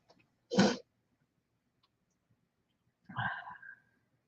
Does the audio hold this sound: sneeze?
yes